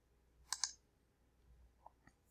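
A computer mouse double-clicks while browsing Google Earth layers: two quick, crisp clicks close together near the start, followed by a couple of fainter ticks in a quiet room.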